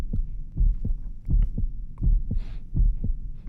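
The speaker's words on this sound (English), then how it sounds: "Rubuska settles on the floor, feeling her heart pounding louder and louder" A heavy heartbeat pounds in the Reverse 1999 video game, steady double thumps repeating about every half second, loud and close over a faint low hum.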